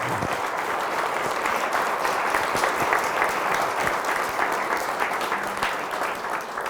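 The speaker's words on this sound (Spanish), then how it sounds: "Fuertes aplausos al Señor Jesús." A church congregation claps together at a Catholic service, dense continuous applause filling the space at a moderate level for several seconds, with no talking over it.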